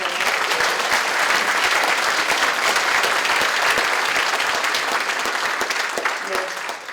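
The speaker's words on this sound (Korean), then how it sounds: "두 분께 다시 한번 박수 한번 보내주세요" A large audience claps steadily at a political committee launch ceremony, dense sustained applause throughout with no voices on top.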